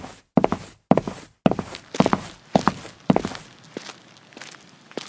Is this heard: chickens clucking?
no